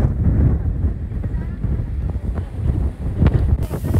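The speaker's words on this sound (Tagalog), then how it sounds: "Sobrang lakas ng hangin guys." Strong coastal wind at Dingalan blasts across the microphone in heavy, continuous low rumbling gusts that swell and ease, with a voice speaking faintly underneath.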